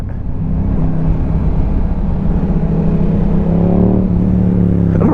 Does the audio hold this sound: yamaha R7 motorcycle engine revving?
yes